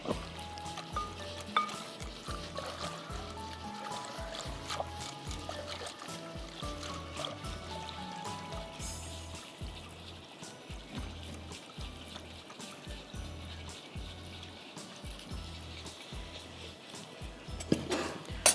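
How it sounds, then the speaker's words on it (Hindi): Wheat flour being mixed into half a cup of water for fudge ice cream, a steady run of soft, rhythmic stirring and sloshing strokes close by, with no talking. "व्हीट फ्लावर 2 to 3 टेबलस्पून, मैंने 3 दिया था, और इसको हमने आधा कप पानी में मिक्स करना है।"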